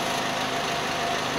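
A car engine idles steadily during an oxygen (lambda) sensor test, a continuous low rumble with an even vibrating hum that stays constant throughout.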